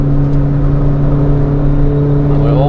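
A car engine at full throttle in fifth gear while climbing a hill on the Nürburgring, a steady loud drone with strong harmonics and slight revving near the end, close and continuous with no talk.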